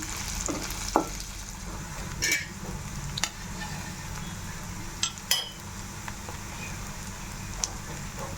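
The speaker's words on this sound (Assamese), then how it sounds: "পিঁয়াজখিনি ৰঙচুৱা হোৱালৈ ভাজি ল'ম।" Onions and cumin seeds sizzle in hot oil in a wok, a steady low crackle punctuated by several sharp clinks and scrapes of a metal spatula.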